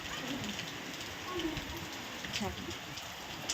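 Rain falls over open farm fields as a steady, moderately loud hiss, with faint voices in the background.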